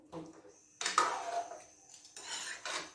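Chicken with ginger being stirred and mixed in a pan, irregular scraping and clinking of a utensil against the cookware, close and moderately loud, with a voice talking over it.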